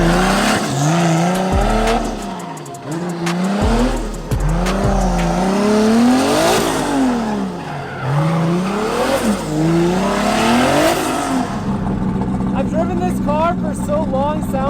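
A 1000 whp BMW E36 accelerating hard, its engine loud and close, revving up and down repeatedly through the power band with rising and falling pitch before settling, with a voice talking over it.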